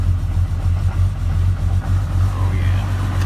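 A Cummins diesel engine with no grid heater idles cold on startup, a steady low rumble with a faint turbo whistle rising above it, close and continuous.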